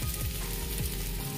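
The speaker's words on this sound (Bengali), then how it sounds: "মশলাটা ভাজা ভাজা হয়ে এসেছে।" Spice masala frying in a pan for a fish curry sizzles loudly and steadily up close, with faint stirring scrapes and no talk.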